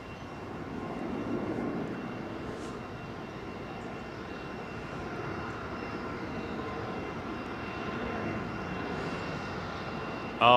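A Qatar Airways Airbus A350-900 jet departs Heathrow, its broad, steady engine roar sustained and fairly distant throughout, with no talk over it.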